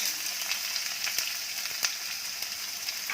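Onion and green chili hit hot oil already seasoned with asafoetida and cumin, giving a steady, close, bright sizzle that holds evenly throughout with a few sharper crackling spikes.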